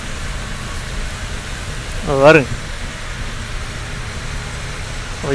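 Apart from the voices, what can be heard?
heavy rain on a moving bus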